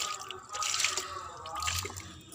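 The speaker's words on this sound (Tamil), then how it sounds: "இப்படி வச்சு தண்ணியை ஊற்றி விட்டுறலாம்." Water drips and trickles from a terrace plant pot just after watering, a quick irregular patter of close droplets and a short splashy run of liquid, alone without talk.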